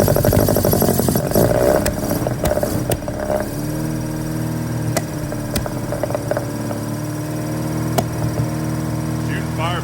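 A 1979 Fiat 124 Spider 2000 engine fitted with dual 44 IDF carburetors cranks and runs roughly, with sharp backfire pops and knocks over a rumbling motor, close by, while people talk nearby.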